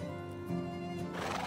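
A horse in the medieval life-sim game Medieval Dynasty neighs with a clear whinny, followed by hooves clip-clopping, fairly quiet and with no speech.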